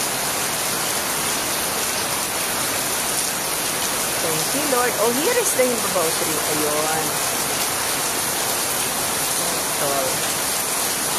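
Steady falling rain hisses in a broad, even wash outdoors near a himbabao tree, with a person talking over it partway through.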